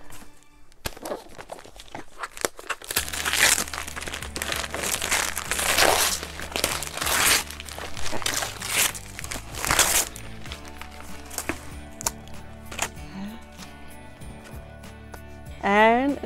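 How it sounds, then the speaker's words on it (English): Festive Christmas wrapping paper crinkles and rustles in a series of crisp bursts as a gift is unwrapped, close by and fairly loud, with background music and tones running underneath. "And look at the wrapping paper."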